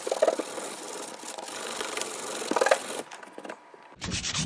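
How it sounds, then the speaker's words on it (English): Soft, steady scratchy rubbing of sandpaper on wood, a continuous rasp with slight rhythmic strokes, close and fairly quiet. "Final touches with some sandpaper."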